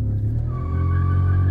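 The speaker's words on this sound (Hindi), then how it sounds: "बढ़िया बढ़िया, दोनों गाड़ी बराबर लॉन्च" Two tuned Skoda 1.0L cars, a Slavia sedan and a Kushaq SUV, launch side by side in a drag race, a loud sustained engine drone rising in pitch as they accelerate away, close and steady.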